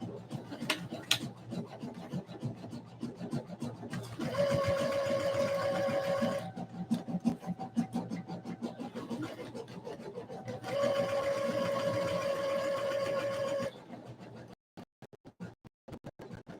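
A sewing machine stitches a small skirt at a stitch length of 2, in two steady whirring runs of a couple of seconds each, with scratchy handling of fabric between and around them.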